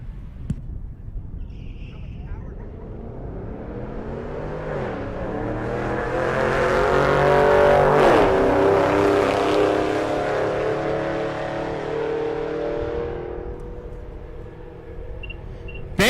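Two drag race cars, a drop-top fourth-generation Pontiac Firebird and a Chevrolet Camaro, run down the strip at Rocky Mountain Race Week. Engine roar builds steadily through the pass, peaks near the middle, then fades as the cars pull away.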